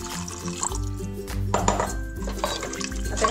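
Water left over from grinding the masala paste is poured from a vessel into a pan of stuffed eggplant masala, a close, gurgling, splashing pour with a low rumble underneath.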